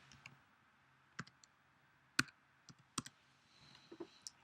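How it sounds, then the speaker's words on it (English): Mouse clicks and keyboard taps during computer data entry, scattered sharp clicks spaced irregularly, quiet and close in a silent room, with no talk. "you simply enter the information by clicking on that green arrow"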